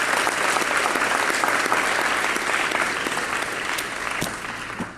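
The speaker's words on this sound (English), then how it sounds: "I want you to join me in giving your parents a round of applause for what they've done as well." Parents and students at a high school top-20 awards ceremony give a full, dense round of applause, loud and sustained throughout before fading slightly at the end.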